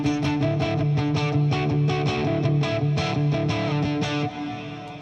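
Electric guitar played through a HOF Mini reverb pedal, a dense sustained melody with picked notes washing together under a steady reverb tail, loud and continuous with no voices.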